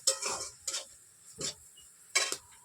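Chopped tomatoes stirred in a pan while cooking chicken chow mein, giving scraping, clattering stirs in four separate bursts with a faint sizzle between them, close by and with no talk.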